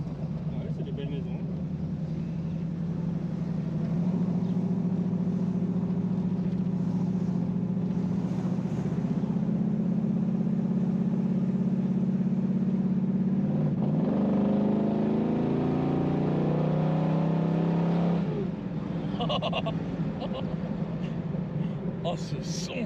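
A Pontiac muscle car engine drives through small Champagne villages, a steady, deep droning rumble that rises and shifts in pitch partway through as the car accelerates, then settles back into a smooth cruise.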